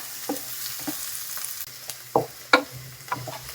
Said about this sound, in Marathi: सर्वात पहिले कांद्याला फ्राय करून घेऊयात.